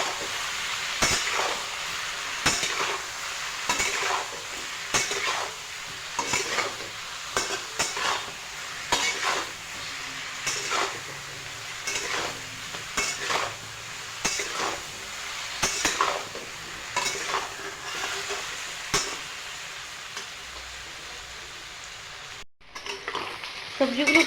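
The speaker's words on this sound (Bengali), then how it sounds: "সবজিগুলো হালকা ভাজা ভাজা করে নেব।" Vegetables seasoned with salt and turmeric frying in a pan: a steady, close sizzle runs throughout, broken by repeated scraping stirs and utensil clinks, with no talking.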